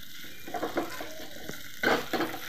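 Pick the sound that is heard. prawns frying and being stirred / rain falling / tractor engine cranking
prawns frying and being stirred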